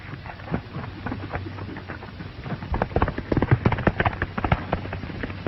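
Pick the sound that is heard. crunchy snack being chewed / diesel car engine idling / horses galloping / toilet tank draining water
horses galloping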